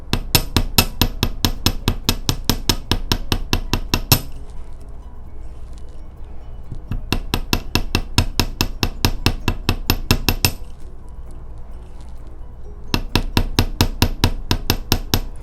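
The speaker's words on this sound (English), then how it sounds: "I'm going to just gently hammer just that little round part there" A small hammer taps wire earring links in rapid, sharp bursts of even metallic strikes, three runs of quick repeated hits separated by short quiet pauses, close and fairly loud.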